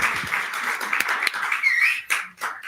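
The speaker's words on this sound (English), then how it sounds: "another round of applause." An audience at a UNICEF and BMW Group forum gives a round of applause, a dense, steady patter of many hands clapping at moderate volume that thins out into scattered claps near the end.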